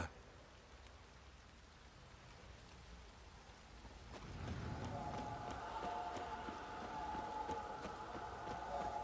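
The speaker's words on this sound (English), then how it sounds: "This downpour's a bastard, it is." Heavy rain in the video game The Witcher 3: Wild Hunt starts faint, then a heavier downpour builds into a steady hiss with scattered patters, continuing evenly to the end with no talking.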